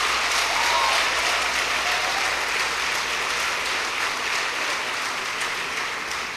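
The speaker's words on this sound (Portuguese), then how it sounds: "Pode aplaudir o Senhor." Sustained, even applause fills a church service as the congregation claps continuously, with a faint murmur under it.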